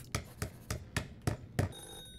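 A telephone rings in a horror video game, six sharp evenly spaced rings about a third of a second apart, fairly close and alone.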